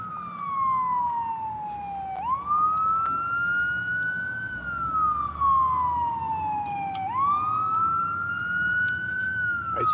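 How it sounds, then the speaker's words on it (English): Emergency vehicle siren on a street in a residential neighbourhood, wailing up and down steadily across the whole stretch with two sharp rising sweeps, fairly loud over low traffic rumble, no talking. "Right when the Whitey turns, there's a siren starting."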